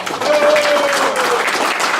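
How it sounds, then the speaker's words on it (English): A live pub politics talk audience breaks into applause for two speakers, a short, fairly loud burst of clapping that stays dense and steady right to the end. "Please show your appreciation for two wonderful speakers."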